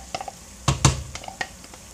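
Blended chili poured back into a hot pot over low heat gives a few brief sizzling splashes and stirring clatters, with two louder bursts in quick succession.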